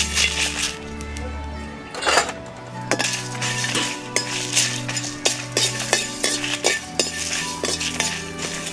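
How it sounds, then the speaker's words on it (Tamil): Whole coriander seeds and fennel dry-roasting in a pan for a village-style mutton gravy, with scraping and stirring clinks of a metal spoon against the pan and light crackling of seeds, steady and close, no talk. "இப்போ எல்லாத்தையும் அப்படியே மொத்தமாக போட்டு வறுத்துடலாம்"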